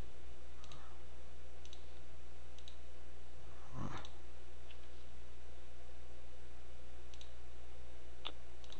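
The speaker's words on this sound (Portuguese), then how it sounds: "Quando eu clicar aqui." Computer mouse clicks during a tutorial on dropdown form menus: several small, quiet ticks spread across the span, with one slightly stronger click near the middle over a steady electrical hum, and no talking.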